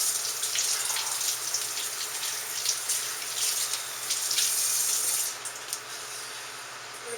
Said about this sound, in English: I'm going to wash these.